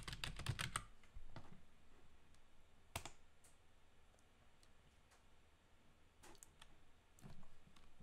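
Keyboard typing into Notepad on a Windows computer: a quick burst of close, crisp key clicks at the start, then scattered single taps and a short cluster near the end over quiet room noise.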